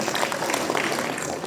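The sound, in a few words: audience applauding themselves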